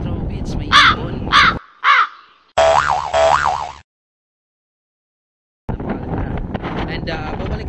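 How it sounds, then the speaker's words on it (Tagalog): Crow-like cawing bird calls outdoors on the Falkland Islands in the South Atlantic, several harsh separate calls early on, then a pause and wind-blown ambient noise. "may ibon."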